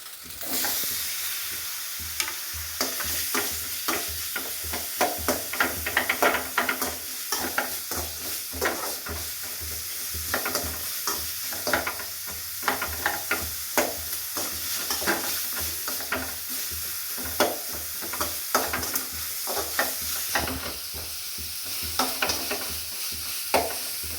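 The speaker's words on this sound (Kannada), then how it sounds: "ಈಗ ಒಗ್ಗರಣೆ ಹಾಕ್ಕೊಳ್ಳೋಣ." Chopped onion fries in a little oil as a tempering for chicken masala, giving a steady sizzle with repeated scraping stirs of a spoon in the pan, close and continuous with no talk.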